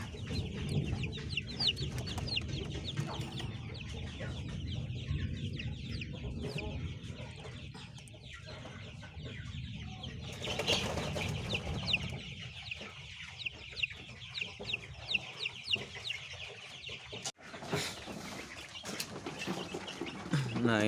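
Week-old KUB chicken chicks peeping continuously in a home-scale village chicken coop, many high chirps overlapping close by, with some background rustle and a brief clatter partway through.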